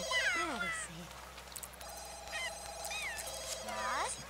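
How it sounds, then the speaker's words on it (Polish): In The Sims 2, a household telephone rings with a repeating electronic trill that mixes with chattering Sim voices and a steady hum underneath. "Telefon nam dzwoni, nie mamy czasu."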